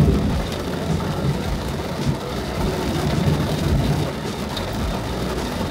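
Steady rain falls in a continuous broadband hiss with no speech, heard during a rainy day.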